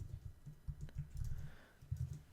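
Quiet, rapid keystrokes on a computer keyboard, a short burst of uneven clicking taps, close and alone.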